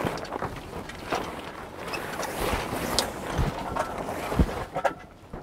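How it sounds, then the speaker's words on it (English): A sailboat under way as the wind picks up, with steady, gusty rushing of wind and water close to the microphone, rising and falling in brief swells. No one speaks. "Now the wind starts to pick up a bit, a sailor's dream."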